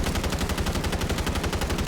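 Rapid automatic gunfire from a tracer-pack weapon in MW3 Warzone, a steady fast stream of loud shots that fills the whole stretch without pause.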